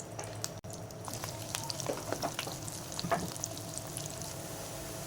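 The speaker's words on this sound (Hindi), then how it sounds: "और इसको हम हल्का ब्राउन होने तक, हल्का सुनहरा होने तक हम इसको फ्राई करेंगे।" Onions sizzle and crackle in a pan, frying until light golden, with occasional stirring scrapes, a steady moderate frying sound with no one speaking.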